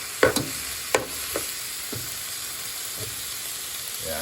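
Ginger sautéing in a pan for Filipino papaitan, a steady soft sizzle broken by a few sharp scraping stirs near the start, then quieter stirring, close by and with no voices.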